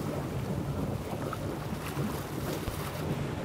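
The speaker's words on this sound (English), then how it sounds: "There's a wind on." Wind blows across a fishing boat at sea during night swordfishing off Australia, a steady, rushing, buffeting roar with wash from the water underneath.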